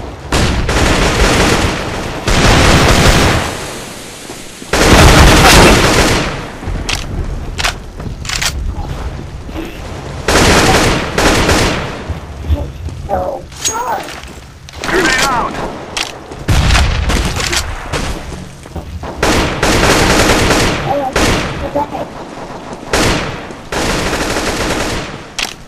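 Counter-Strike: Global Offensive gunfight: loud grenade blasts and bursts of rapid rifle fire, close and dense, with brief gaps and mechanical clicks between volleys.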